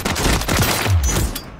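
Rapid bursts of SVA 545 rifle fire in Call of Duty, loud, close, crackling shots fired in quick succession over a short stretch.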